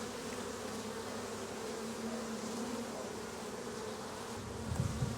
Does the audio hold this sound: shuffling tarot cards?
no